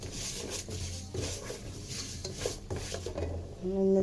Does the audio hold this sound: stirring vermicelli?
yes